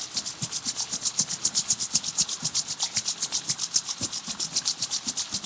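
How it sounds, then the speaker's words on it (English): Palms rubbed briskly together during a Kundalini yoga kriya, a fast, even back-and-forth swishing at about seven strokes per second, close and alone. "Rub the palms together."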